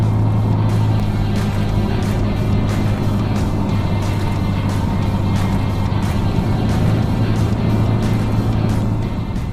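A Nissan GT-R drives through downtown Salem, Oregon, heard from inside as a steady, loud engine drone and road rumble with faint rhythmic ticks, and no talking.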